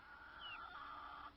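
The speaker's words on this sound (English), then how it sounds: "I just put my mother hen and her babies in with the big birds for the first time." A mother hen with her chicks among a larger flock of backyard chickens gives soft clucking calls. A faint, brief, tonal cluck sits against quiet outdoor background.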